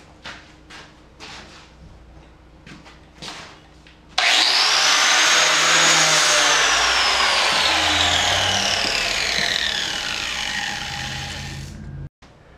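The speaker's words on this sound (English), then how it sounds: "And now with my angle grinder, I'm going to grind this off to about a 45-degree angle" An angle grinder bites into poplar wood for a kitchen table, shaping an edge to a 45-degree bevel: a loud, sustained abrasive whine with shifting pitch after a few light knocks, running about eight seconds before cutting off.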